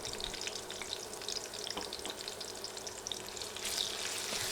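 Garlic and ginger fry in a pan for a broiler chicken curry, giving a steady close sizzle with scattered crackling pops that swell slightly toward the end, with no talking.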